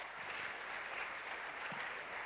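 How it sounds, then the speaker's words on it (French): Audience applause at an e-commerce awards ceremony, a brief, fairly faint and even patter of clapping from a crowd with no clear talking. "Ben, on peut les applaudir bien fort."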